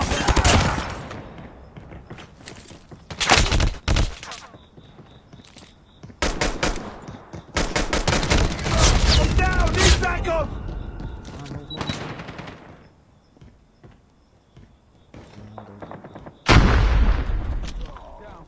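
Video game gunfire rattles in loud automatic bursts and scattered single shots, rising and falling across the stretch, with a player's voice talking between and over the firing.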